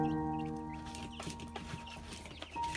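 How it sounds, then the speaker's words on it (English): Rescued chickens cluck softly nearby, a mother hen with her young chicks, in a few short throaty clucks and faint peeps over a low background hum. "Chickens have over 30 different vocalizations that we know of"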